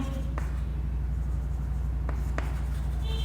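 Chalk or marker writing on a board during a chemistry lesson on 3D packing, with a couple of faint taps and strokes over a constant low hum in a room, with no talking.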